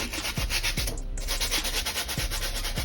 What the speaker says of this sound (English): I use a brass bristle brush, one of these, or one of these. Just to get that excess dirt.